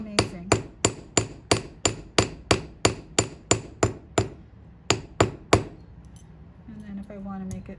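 Hammer forging copper: a steady run of about fifteen sharp, ringing metallic strikes in quick, even rhythm, a brief pause, then three more blows. A faint tonal hum follows at the end.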